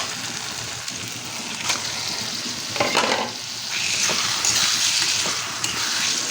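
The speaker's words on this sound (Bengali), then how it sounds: "আর এখানে আমি মশলাটা কষিয়ে নিচ্ছি" Spice paste frying in a pan for chickpea biryani, with steady close sizzling broken by scraping stir strokes and occasional louder bursts.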